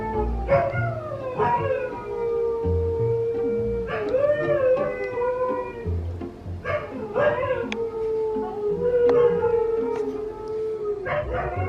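A husky howls loudly in long rising and falling wails, several drawn-out howls in a row with short yips between, close to the listener.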